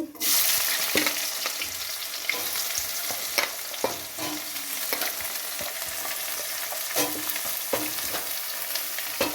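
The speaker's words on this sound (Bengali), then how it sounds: "পেঁয়াজ দিয়ে দিচ্ছি" Onions frying in hot oil for a spicy loitta fish curry, a loud, dense, close sizzle with repeated sharp spatula taps and scrapes as they are stirred.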